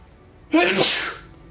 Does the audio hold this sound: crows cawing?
no